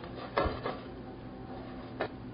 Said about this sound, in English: Add a little bit of coriander leaf and mix again.